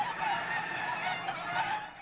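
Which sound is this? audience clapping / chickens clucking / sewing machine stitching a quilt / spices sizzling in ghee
chickens clucking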